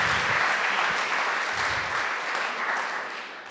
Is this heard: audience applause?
yes